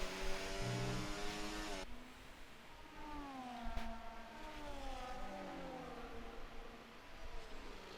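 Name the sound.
F1 race cars in a racing video game at Silverstone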